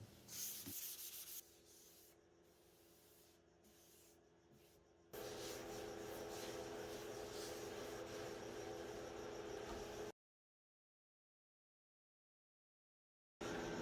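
Sanding a refinished nightstand before its top coat, a steady raspy scrubbing that starts in short broken passes, then runs continuous and fairly close for several seconds before stopping.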